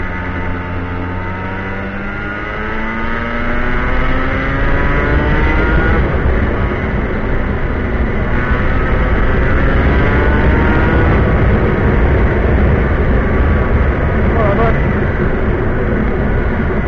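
A loud, buzzing two-stroke go-kart engine revs and drones continuously, pitch sweeping up and down as it accelerates and eases off, close and steady throughout.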